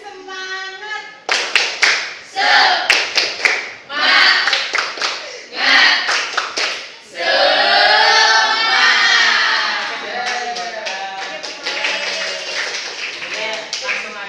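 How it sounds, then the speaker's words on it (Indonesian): A classroom of students does the rhythmic 'tepuk semangat' cheer, with bursts of patterned group clapping in quick sets alternating with children chanting in unison, then a long stretch of voices over scattered claps. "tepuk semangat dulu ya"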